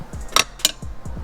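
A ratcheting wrench clicks in quick, uneven bursts up close, with a few sharper metallic snaps between the clicks, during DIY work on a Sparco seat for an MK4 R32.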